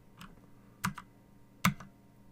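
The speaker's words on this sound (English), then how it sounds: "I'm going to type in" Two light keystroke pairs on a computer keyboard as an IP address is entered while setting up a Cisco FTD device, crisp and close in an otherwise quiet room.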